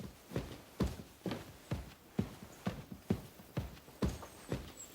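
A horse's hooves clop steadily on hard ground in Kingdom Come Deliverance II, an even walking rhythm of about two beats per second, close and fairly quiet.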